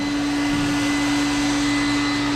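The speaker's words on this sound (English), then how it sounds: "up here it's probably hot because the blow dryer is more intense heat." A blow dryer runs continuously, heating the hull of a 1980 aluminum fishing boat during restoration, a loud steady motor whine with a constant rushing airflow and no pauses or talking.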